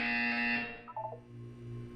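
A loud electronic buzzer in the video game Portal 2 sounds steadily for about half a second, then cuts off into a brief tonal chirp and a low background hum.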